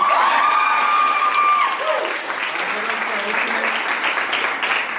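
An audience at a dance performance breaks into sustained applause and cheering, loud and dense throughout, with a voice briefly sounding over the clapping.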